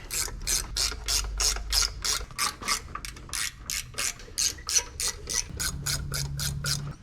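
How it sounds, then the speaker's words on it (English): A ratchet wrench snugs bolts on the impeller housing of a Yamaha 225 SHO outboard, with a fast, even run of about twenty crisp clicking strokes, close up and without voices. "Go back around and tighten these up. I like to just run these up till they bottom out."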